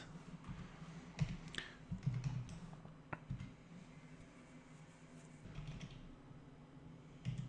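Light typing on a computer keyboard, with scattered soft key clicks and short bursts at low volume over a faint room hum.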